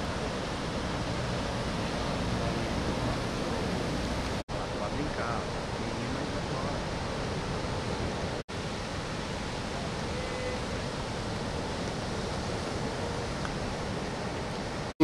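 Ocean surf breaks at Tombo beach in Guarujá on a morning, a broad, steady roar of waves washing in continuously, fairly loud and close, with brief cuts in the recording.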